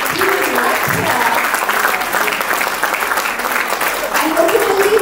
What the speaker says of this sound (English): Let's give him a big hand of applause.